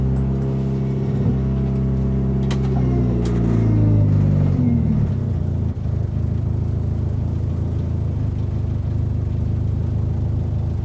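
Mitsubishi Eclipse car accelerating from inside, engine tone climbing through the revs for several seconds before settling into a steady, loud rumble as it cruises.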